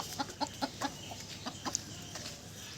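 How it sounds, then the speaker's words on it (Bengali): Several native (desi) chickens cluck nearby in a quick series of short calls, then scattered softer clucks over faint background noise. "আমার দেশি মুরগিগুলো এখানে রয়েছে"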